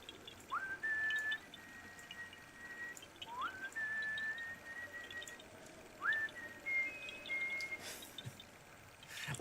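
Three rising whistled notes in a Zelda game, each sliding up and then holding, spaced a few seconds apart over a quiet low background, with no talking.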